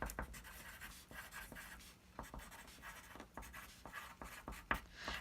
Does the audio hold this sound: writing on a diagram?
yes